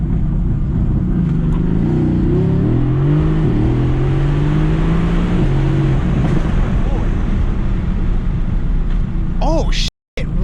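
A Mercedes-AMG E63 S or AMG GT S launching from 0 to 60 in a drag race, its engine note climbing through rising gear sweeps under heavy wind rumble, loud and close from inside the car.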